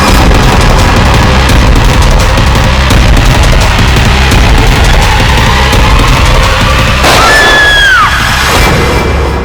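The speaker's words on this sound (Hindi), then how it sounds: "गोली चलने की आवाज?" A sudden sharp bang cuts through loud, busy background noise, followed by a ringing tone that fades away within a second or so.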